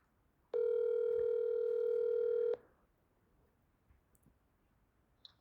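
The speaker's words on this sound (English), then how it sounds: "I'm gonna call Jonathan Pepin in" A telephone dial tone sounds loud and steady for about two seconds, then cuts off, leaving faint room noise with a few soft clicks, as a call is being placed.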